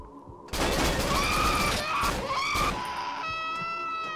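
Gunfire in the horror video game Cry of Fear: a sudden sustained burst of loud, rapid shots with crashing, harsh noise and shrill screeching tones layered over it, then a ringing, whining tail as the barrage eases.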